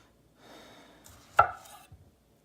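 A knife slices a tomato in half on a cutting board for a Greek salad, giving one soft sharp chop against the board, followed by a faint tap, in a quiet kitchen.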